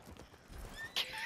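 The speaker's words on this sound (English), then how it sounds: "And my horse, Galaxy, come on" Video-game horse galloping with clip-clop hooves, then a loud whinny near the end, close and prominent over game sounds.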